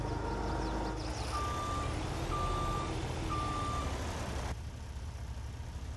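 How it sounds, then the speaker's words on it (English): Reversing beeps from an old skid steer loader in Farming Simulator 22, three evenly spaced electronic tones sounding clearly over a steady engine drone with no talk. "I'm really excited to try out this old skid steer here."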